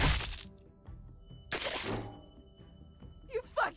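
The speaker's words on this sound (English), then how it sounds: "You fucking shot him." A single loud gunshot cracks out in The Walking Dead: Michonne game, sharp and close, followed by a second burst and quieter scuffling with music underneath.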